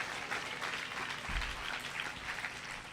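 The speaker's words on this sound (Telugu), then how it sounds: "చప్పట్లు కొడుతూ దేవునికి స్తోత్రం" A church congregation claps together at a Sunday evening service, a steady mass of applause that carries on through the whole stretch.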